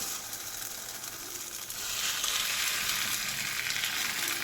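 Chempalli fish pieces dropped into a hot pan of oil, giving a steady crackling sizzle that swells louder partway through and keeps going, with no talking.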